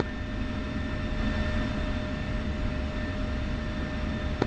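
Steady broadband jet engine roar from an aircraft taxiing in the DCS flight simulator, with faint tonal whines above a rumbling low end, continuous and even throughout with no talking.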